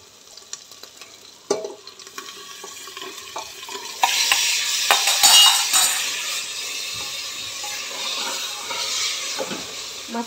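Goat tripe (vajri) goes into hot oily masala and is stirred, with scattered clinks and scrapes at first, then a sudden loud hissing sizzle that slowly fades while stirring continues.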